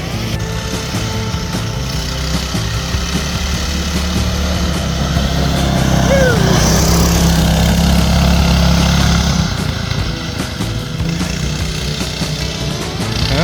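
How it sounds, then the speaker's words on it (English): A go-kart powered by a 212 PowerPack engine runs steadily nearby, a loud, constant small-engine drone that swells slightly midway and holds without talk. "testing out version 2 Go Kart featuring the 212 PowerPack engine drive"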